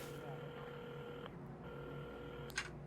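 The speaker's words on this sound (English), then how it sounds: "at the counter, Carmen had started dialing the phone" Phone being dialed in the Assemble with Care puzzle game, a short steady electronic tone sequence with a brief sharper blip near the end, heard quietly over low background music.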